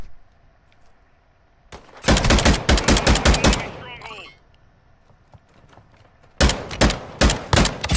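Rapid bursts of automatic gunfire from a video game shooter, loud and close, two clusters of repeated shots separated by a brief lull with faint electronic sounds.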